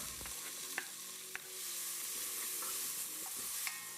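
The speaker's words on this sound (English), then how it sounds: "So now it's time to saute the fresh seasonings." Fresh seasonings sauté in a hot pan, a steady soft sizzle with scattered clicks and scrapes of stirring, close and fairly quiet, no voices.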